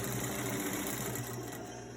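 A sewing machine stitches elastic onto a cloth face mask, running with a steady, fast mechanical whir close up and alone for about two seconds.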